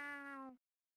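A single clear, tonal cat meow from the PS2 video game Chulip lasts about half a second and then stops abruptly into silence.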